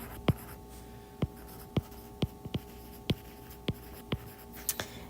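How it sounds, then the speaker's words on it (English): Pen or marker strokes tapping and scratching on a surface while writing out a statistics problem, about ten sharp separate ticks at an uneven pace, close and clear over a quiet background with no talk. "So the first question, I'm going to write right here"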